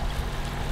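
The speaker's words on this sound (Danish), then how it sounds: "vi sejler stille og roligt her afsted med motor indenskærs" A sailboat motoring slowly under engine power through sheltered inshore waters of the Swedish archipelago, giving a steady, close, low rumbling drone with broadband wash and no voices.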